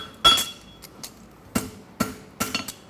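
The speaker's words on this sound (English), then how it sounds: "I'll take the round of my hammer, and about half inch in front of the end of the heel, I'll hit with the round of my hammer" The rounded face of a farrier's hammer strikes the heel of a St. Croix Advantage horseshoe, giving about half a dozen sharp, close metallic blows in an uneven rhythm with short ringing tails.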